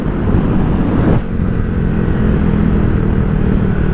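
A Honda Grom motorcycle cruises at about 53, its small single-cylinder engine droning loud and steady close to the rider, with wind rush and no talking.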